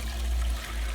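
Warm water poured into dishwashing bins at a campsite, a steady trickling gush that runs continuously and fairly close, with no talk over it.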